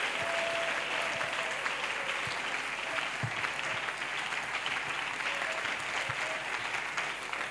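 A church congregation claps together in a sustained, dense round of applause that holds steady and fairly close throughout, with a few louder individual claps standing out.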